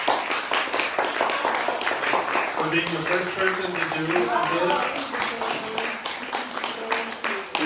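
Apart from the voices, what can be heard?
audience round of applause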